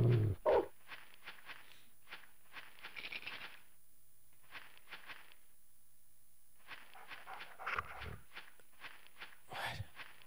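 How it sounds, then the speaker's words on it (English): Dogs barking and panting in a cemetery in the N64 game Shadow Man, repeated bursts of barks and growly breaths, faint and somewhat distant over a low hum, no talk. "Why are there so many dogs in the cemetery?"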